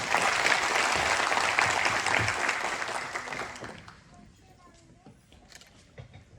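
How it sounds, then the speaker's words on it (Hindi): An audience at a community event in Mumbai applauds loudly for about four seconds, then the clapping fades away to near quiet with only scattered sounds. "आप अपने लिए भी जोरदार तालियां बजाएं"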